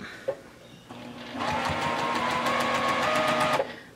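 A sewing machine stitches pinwheel quilt block pieces: a brief click, then a steady, close, rapid mechanical whir of the needle running for about two seconds before stopping.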